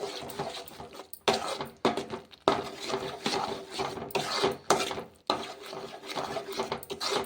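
A spoon stirs Kashmiri chilli powder into masala in a pan, making quiet, close scraping strokes in a steady, repeating rhythm.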